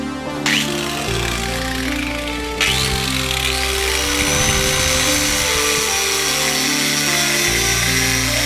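A clamped electric drill spins steadily in a workshop where engine covers are being made for a Suzuki GS 500 cafe racer. It gives a loud, continuous motorized whine whose pitch shifts slightly a few times as it runs.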